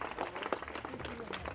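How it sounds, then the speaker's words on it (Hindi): Students and audience clap for a volunteer at a school science session, a soft, scattered burst of applause at a distance, with some murmured voices mixed in. "ताली तो बजा दो यार इनके लिए"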